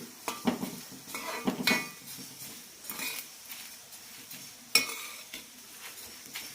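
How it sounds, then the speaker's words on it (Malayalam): Coriander seeds roasting in a pan, heard as soft dry rustling and scraping from stirring, with intermittent utensil clinks and a sharper knock, close and fairly quiet, with no talk. "മല്ലി ലൈറ്റ് ബ്രൗൺ ആവുന്നവരെ വറുത്തെടുക്കണം"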